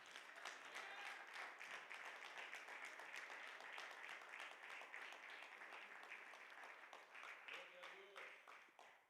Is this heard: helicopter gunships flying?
no